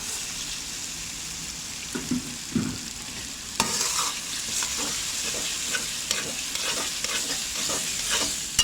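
Rice and peas fry together in a pot for pulao, a steady close sizzle broken by scraping stirs and occasional clinks of the spoon.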